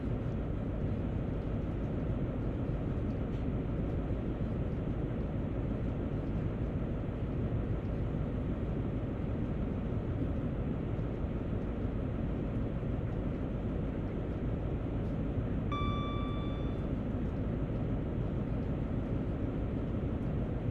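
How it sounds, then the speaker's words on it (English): A GWR HST train coasting at 40 mph in Train Sim World, a steady dense rumble of running gear and engine drone that holds unchanged throughout, with a brief high tonal whine appearing near the end. "I'm just going to allow the train to coast along here at 40 miles per hour."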